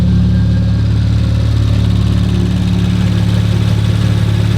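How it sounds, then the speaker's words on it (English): A heavily damaged 2019 Audi RS5 under rebuild runs its engine in a loud, close, continuous drone with a steady low rumble and no speech over it. "Like motor running."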